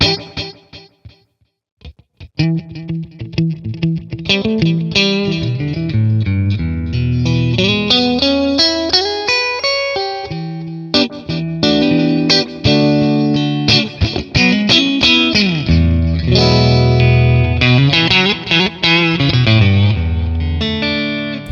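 Electric guitar through a digital delay effect, notes and slides with repeating echoes trailing each phrase, loud and close, starting after a few scattered plucks.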